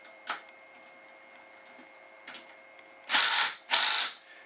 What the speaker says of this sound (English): Then all you need to do is tighten this bolt here,